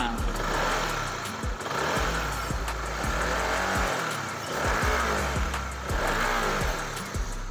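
Honda CB150 motorcycle engine idling smoothly after a repair, a steady close-up idle with a regular low thump and occasional light throttle blips, moderately loud.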